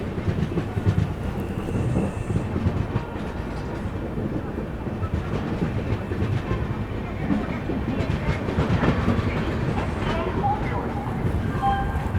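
The Andhra Pradesh SF Express pulls into Warangal station with a rolling rumble and wheel clatter, a few thin squealing tones rising near the end, and voices faintly mixed in.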